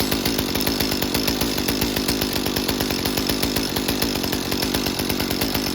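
A Stihl MS 201TC chainsaw engine runs steadily at idle, a close, loud, rapid buzzing chatter that never shuts off, with no talking over it.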